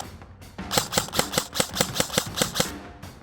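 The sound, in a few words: airsoft AEG (Arcturus Sport MKIII Carbine) firing in binary mode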